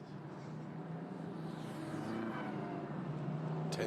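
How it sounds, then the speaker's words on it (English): Racing cars of the ADAC GT Masters at Oschersleben, 2017, roll through the pit lane, a steady, fairly distant engine drone with a low hum that builds slightly toward the end. "So the cars all make their way through the pit lane."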